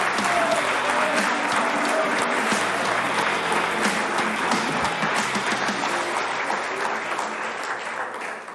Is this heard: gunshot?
no